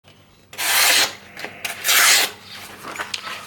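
A knife blade is ground on a Work Sharp KNV2 powered belt sharpener in two loud abrasive passes of about half a second each, with a hissing rasp between quieter motor hum and light scraping touches.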